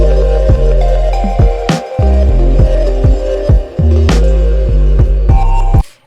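Hip-hop beat built from microtonal gamelan-style plucked tones over a deep 808 bass, with punchy kick drums landing just after the bass hits in an offbeat pattern, loud and continuous for about six seconds before stopping.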